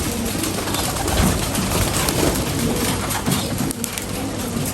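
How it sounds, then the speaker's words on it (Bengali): Racing pigeons coo close by in a steady low murmur, with a brief flutter of wings among the calls against a constant outdoor background. "কিছু কবুতর ফ্লাইংয়ে আছে, কিছু কবুতর এই যে"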